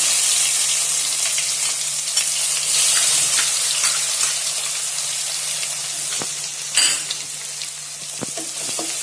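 Green chilli, cumin and garlic paste frying in hot oil with curry leaves for Davanagere Nargis mandakki, a steady close sizzle throughout with brief louder bursts of spitting and occasional soft stirring knocks, no voices.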